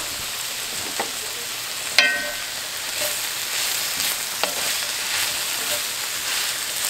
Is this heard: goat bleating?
no